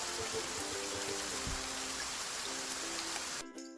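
Steady rain patters on a surface, a dense continuous hiss with scattered drips, then cuts off abruptly near the end.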